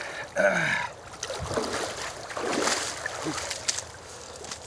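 Water is dumped over a person for an ice bucket challenge: a rushing splash and slosh that builds for a few seconds, with brief voices near the start.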